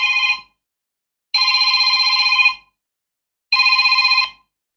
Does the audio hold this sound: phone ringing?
yes